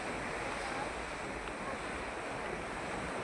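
Continuous roar of sea surf washing ashore at Guhagar beach, a broad steady rush mixed with wind buffeting the microphone.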